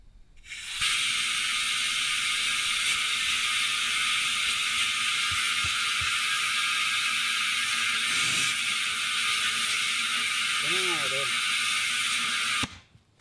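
Loud, steady hiss of compressed air blasting through a coreless valve stem to seat a car tire on its rim, running continuously for about twelve seconds before cutting off abruptly.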